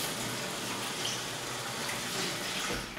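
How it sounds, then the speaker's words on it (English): Tap water runs continuously into a kitchen sink while a scrubbed kitchen item is rinsed. The splashing hiss is fairly soft and steady and stays alone without talking. "And then I come back with my scrub brush. I brush it off"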